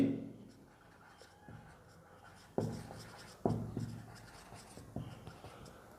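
Pen or pencil writing notes by hand on paper during a Bengali grammar lesson, soft scratching strokes with a few sharper taps, close and fairly quiet, no talking.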